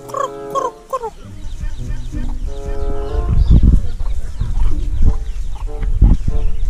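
Native chickens clucking and squawking on a farm while being chased, with loud close bursts over a noisy outdoor background and voices talking throughout.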